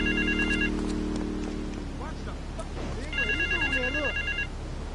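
Telephone ringing in the Grand Theft Auto video game: electronic ring bursts at the start and again near the end, with a person talking in between over a steady background hum.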